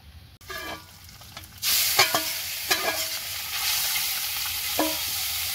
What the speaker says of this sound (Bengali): দুটো কড়াইতে মাছ ভাজা চলছে এখনো